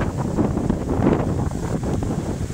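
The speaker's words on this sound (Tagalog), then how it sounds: "Malakas pa rin yung hangin dito sa amin." Strong typhoon wind buffets the microphone with a constant roaring rush, gusting slightly louder and softer, with no talking.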